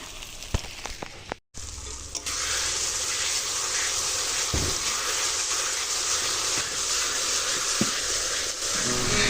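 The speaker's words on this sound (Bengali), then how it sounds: "মশলাটা ভালো করে কষিয়ে নিয়েছি দেখো প্রায় তেলটা ছেড়ে দিয়েছি" Spice masala fries in hot oil in a pan with a steady, dense sizzle and hiss, broken by a brief gap and a few clinks of stirring.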